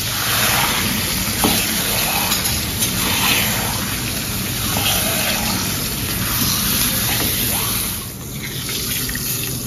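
Beef frying in a hot pan with a spice mix, giving a loud, continuous sizzling hiss that swells and dips slightly throughout, with no talking.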